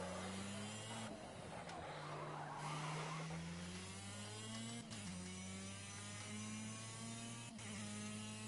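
A superkart spins at the Monaco chicane in a racing game, its engine droning in steady tones while a loud rush of tyre skid and scrubbing noise surges for a few seconds before the motor picks up again.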